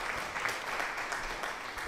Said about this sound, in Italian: E allora lasciamo un bel applauso.